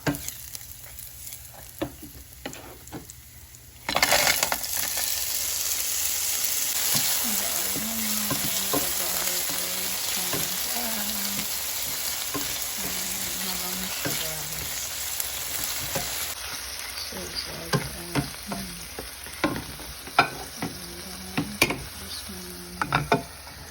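Garlic and a small chunk of pork fat frying in hot oil, a steady loud sizzle starting abruptly and continuing throughout, with occasional clinks and stirring scrapes of a utensil against the pan.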